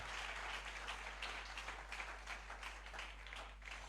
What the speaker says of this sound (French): Let's put our hands together for God's sake.